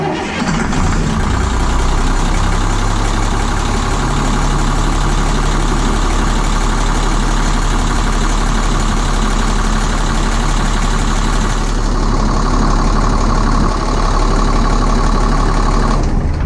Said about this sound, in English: Starting the engine again for 10 seconds.